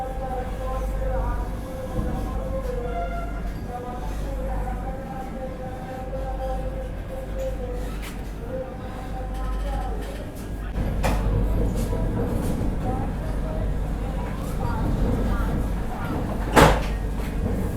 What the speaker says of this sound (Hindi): अभी अपनी वंदे भारत एक्सप्रेस निकल चुकी है पाटलिपुत्र जंक्शन से